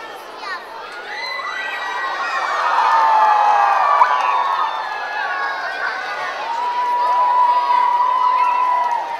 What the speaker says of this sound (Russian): Тем временем школьники встречали героев и спасенного товарища громкими аплодисментами.